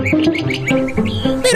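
A bird singing cheerfully with a quick series of bright chirps and tweets, close and loud, repeating in a lively rhythm.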